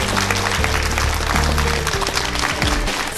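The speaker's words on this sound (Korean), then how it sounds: "곽금주 교수님께 큰 박수 드리면서" A studio audience at a Korean TV lecture applauds Professor Kwak Geum-ju, with a steady wash of clapping mixed with low sustained music tones underneath for a few seconds.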